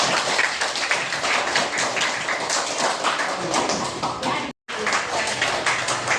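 Students in a junior high classroom in Pematang Siantar applaud a classmate, a continuous, lively patter of close hand claps with voices mixed in, cut by one brief silence before resuming.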